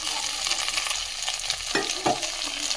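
Diced potatoes and soaked cashew nuts stirred in a hot pan for a cashew kurma, a close continuous sizzle with a couple of distinct spoon scrapes near the end.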